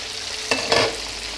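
Masala fries in a pan during chicken and peas curry cooking, a steady hiss of sizzling with two brief bursts as it is stirred, close and without talk.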